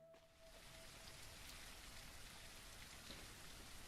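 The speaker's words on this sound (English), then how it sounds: "When you walk under it, it like muffles the rain." Video game rain heard from beneath a base roof, a steady, soft hiss with a muffled quality and no talking over it.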